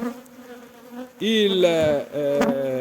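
Honeybees swarm a hive feeder, a droning buzz with close wingbeat whines that rise and bend as individual bees pass near, quiet at first, then loud and intense in two bursts.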